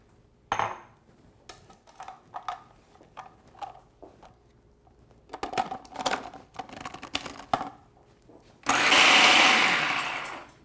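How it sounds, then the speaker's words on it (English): Habanero peppers and onions go into a blender. Scattered clinks and taps of preparation come first, then the motor kicks in with a loud, steady whir for the last couple of seconds. "First, we're going to blend our habaneros. Habanero peppers first, and then we add our onions to it."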